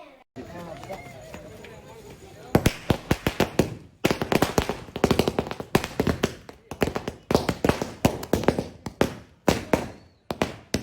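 Peacock feather fireworks going off in rapid bursts, a dense rattling series of sharp cracks and pops that continues with brief gaps after a quieter opening, fairly close and loud.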